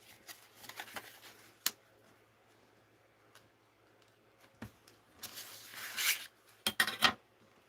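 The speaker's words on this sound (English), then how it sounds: "Let's just cut this down a ½ inch." Scissors trimming half an inch off a paper scrap during a papercraft session, with soft rustling and scattered sharp snips, then a denser burst of cutting and handling near the end, close and fairly quiet with no talking.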